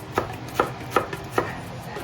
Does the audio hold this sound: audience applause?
no